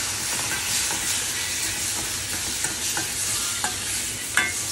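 Tomatoes with ground coriander sizzle and fry steadily in a pan for Sindhi dal pakwan, a constant hiss with a few sharp clicks of stirring near the end.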